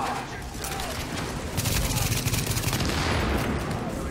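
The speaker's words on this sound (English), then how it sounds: "Keep shooting." Rapid automatic gunfire from the shooter video game The Division, a dense, loud burst of shots that swells midway with mechanical clatter, with a voice present in the game mix.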